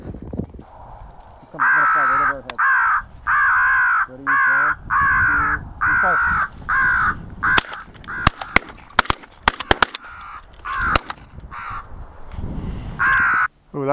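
Crows caw during a crow hunt in a series of loud, close, rhythmic calls that come and go, with a few sharp clicks in between and voices talking quietly underneath.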